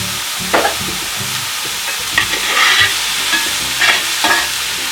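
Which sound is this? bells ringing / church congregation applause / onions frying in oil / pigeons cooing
onions frying in oil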